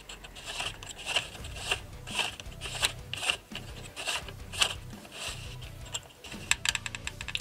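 Tool screwing a 3D-printed muzzle tip onto an AceTech Quark-K airsoft unit for a Marui KSG, a run of quiet, close scraping and ratcheting clicks in an irregular rhythm, with no voices.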